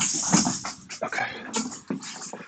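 A dog whimpers and yips in short, high, uneven bursts close by, the whines rising and breaking off several times while chasing a cat indoors.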